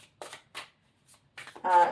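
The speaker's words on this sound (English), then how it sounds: "Try not to shuffle too much." Tarot cards are shuffled by hand in a few short, quick riffling bursts separated by brief pauses, close and crisp, the last burst the loudest.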